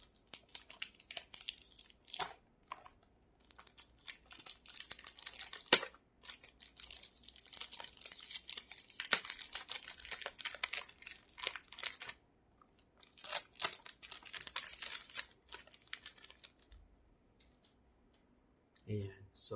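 Crinkling, tearing and rustling of a Viktor & Rolf Spicebomb eau de toilette box being unwrapped, busy close paper and plastic handling in bursts with short pauses, a voice occasionally speaking alongside.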